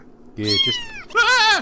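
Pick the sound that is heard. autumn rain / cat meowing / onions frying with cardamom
cat meowing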